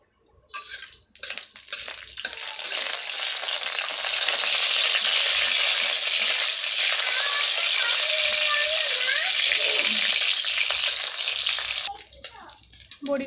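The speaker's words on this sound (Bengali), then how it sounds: "এবার আমি বড়িগুলো ভেজে এতে তুলে নেব" Lentil dumplings (bori) fry in hot oil in a wok, a loud, dense, continuous sizzle that swells after a few scattered crackles, holds steady for several seconds, then cuts off near the end.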